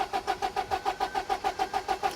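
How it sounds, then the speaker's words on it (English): A car that has run out of fuel cranks over and over without catching, a steady rapid rhythm of about a dozen even starter pulses, loud and close. "My car won't start."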